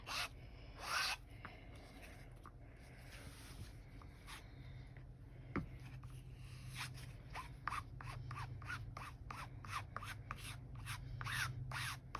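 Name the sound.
scraping excess coating off cotton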